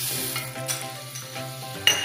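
About 1.5 tablespoons of butter sizzling in a hot skillet, a close, even crackling hiss with a light clink near the end, with no talking.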